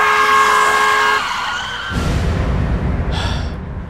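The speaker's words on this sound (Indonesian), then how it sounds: "aku berhasil menghindari mobil yang hampir menabrakku" A car swerves on a street close to a pedestrian crossing the road, its engine loud and near before harsh tire skidding takes over and then fades.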